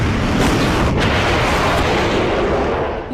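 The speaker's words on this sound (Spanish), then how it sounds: "Una fuerte explosión" A hit military aircraft explodes as its pilot ejects during the 1982 Falklands air war, a loud sustained roaring blast of broadband noise lasting several seconds with no voices.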